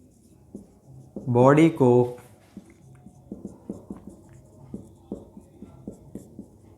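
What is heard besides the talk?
writing during a lecture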